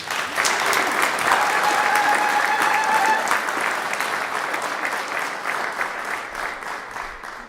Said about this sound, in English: So let's have another round of applause for Mandy.